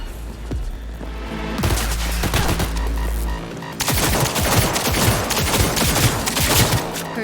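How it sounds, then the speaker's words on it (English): Rapid bursts of gunfire in Cyberpunk 2077, loud and close, with dense rattling volleys broken by a short lull and a low hum before the shooting resumes. "Heard shots."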